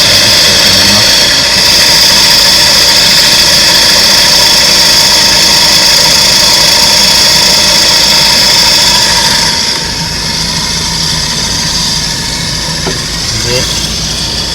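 Suzuki Carry DA63T kei truck with an automatic transmission, its engine running with an abnormal shrill rasping noise, a loud steady drone that eases slightly partway through.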